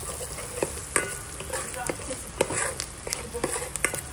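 Chopped garlic fries in a pan with a steady, faint sizzle, broken by repeated scraping clicks from stirring.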